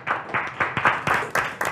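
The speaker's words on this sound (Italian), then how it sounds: "ti giunga un applauso da tutti noi" Studio audience on an Italian television talk show gives a round of applause, a loose rhythm of clapping bursts repeating roughly every quarter second, fairly close and moderately loud, with no talking over it.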